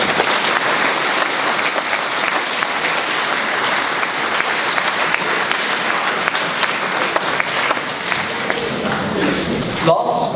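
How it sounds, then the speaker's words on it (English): A school speech day audience applauds an award recipient, dense sustained clapping from a large crowd filling the room, loud and even throughout, with a voice briefly over it near the end. "Please give a big round of applause to Ethan."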